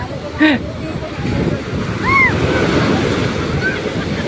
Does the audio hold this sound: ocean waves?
yes